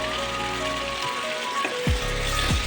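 Pumpkin pieces and chickpeas frying in ghee for kumror chokka, a steady close sizzle with a couple of stirring scrapes near the end, no talk.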